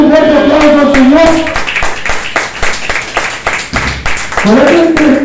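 A church congregation gives applause to the Lord during a Spanish-language sermon: a brief spell of scattered claps between stretches of loud preaching voice at the start and end.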